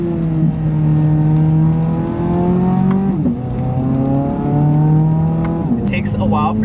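A 2023 Chevrolet Corvette Z06 accelerates hard through the gears, its loud engine note climbing steeply, dropping at each quick shift and climbing again, with people talking in the cabin.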